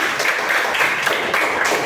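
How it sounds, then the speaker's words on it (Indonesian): Steady applause from students in a classroom, a continuous dense patter of many hands clapping at once, fairly loud and even throughout. "tepuk tangan dulu untuk semua"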